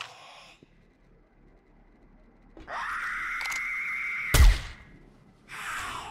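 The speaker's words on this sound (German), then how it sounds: "Natürlich ist das eine Kreischerin." A screamer zombie in 7 Days to Die lets out a long, shrill, piercing shriek after a brief earlier wail, cut by a sharp bang, then another scream rising near the end.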